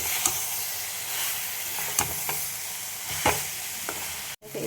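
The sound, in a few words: potatoes and soya chunks stirred into frying spice mix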